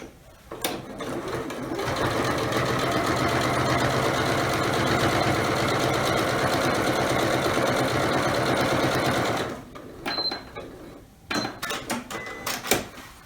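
A sewing machine topstitches a denim jeans pocket, running in one steady, loud, continuous burst for several seconds before stopping, followed by a few light clicks and handling taps.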